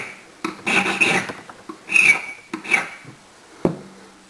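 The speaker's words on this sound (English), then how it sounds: "So I just keep on filing" A metal file rasps in short strokes across a key blank while impressioning a Ford ignition lock, several separate close scraping passes with brief pauses between them.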